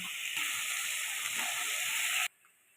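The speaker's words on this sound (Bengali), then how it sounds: "পেঁয়াজ বাটাটা তেলের মধ্যে খুব সুন্দর করে ভেজে নিচ্ছি" Onion and garlic paste frying in oil for chicken do pyaza, a loud, dense, close sizzle that holds steady for about two seconds and then cuts off abruptly.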